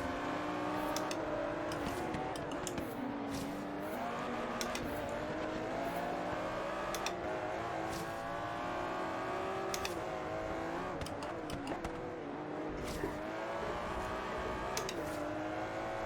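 An Aston Martin Vantage GT12 races hard in Forza Horizon 3, its all-wheel-drive engine note droning steadily and rising and falling through gear shifts, with brief sharp bursts and no talk over it.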